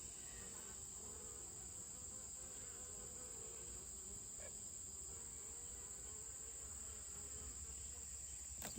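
Bees buzz around a sugar-water feeder tray set out on a grate, a faint, continuous insect drone that holds steady and unbroken with no voices.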